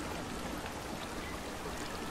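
Water flows steadily in the video game Outcast 2, a continuous stream-like rush with no voices over it.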